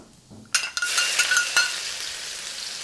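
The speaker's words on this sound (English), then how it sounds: "Now the chilies." Chilies hit hot oil in a wok with a sudden loud burst of sizzling, followed by a few spatula scrapes and a steady hiss that carries on close by, with no talk.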